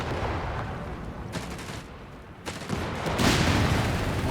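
MG42 machine gun fire in the real-time strategy game Company of Heroes 3, heard as dense, rapid bursts of gunfire mixed with distant explosions in a noisy battle soundscape.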